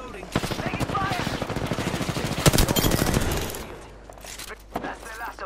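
Rapid automatic gunfire from an Apex Legends-style shooter game, loud bursts of machine-gun fire with dense repeated shots over several seconds, then fading into sparser shots, with game character voice lines mixed in.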